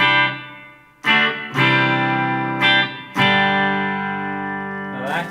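Clean electric guitar chords from a Gibson SG through a Fender Mustang I V2 amp's '65 Twin Reverb model, strummed one after another, ringing out bright and sustained with a spacious reverb tail between strikes.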